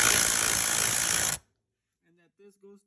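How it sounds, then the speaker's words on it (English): A power drill bores through a wooden stud during bathroom addition reroute work, a loud, steady grinding burst that stops abruptly, followed by a few brief quiet sounds. "usually when I drill the next stud, I try to make sure that this is in the center"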